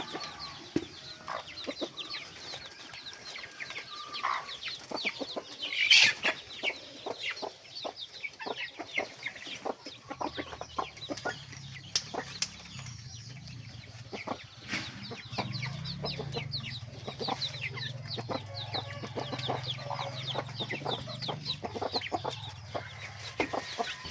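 Young chickens around two months old cluck and peep close by in a backyard pen, a busy overlapping chatter with one sharper call standing out and a low rumble joining later.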